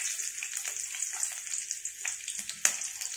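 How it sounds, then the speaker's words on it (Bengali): Slit green chilies sizzle in hot oil with already-fried mustard seeds, a steady close-up frying crackle with scattered pops and one sharp spatter near the end, no voices. "সর্ষেটা ভাজা হয়ে গেছে, আমি ওর মধ্যে চারটে কাঁচা লঙ্কা চিরা দিয়ে দিচ্ছি।"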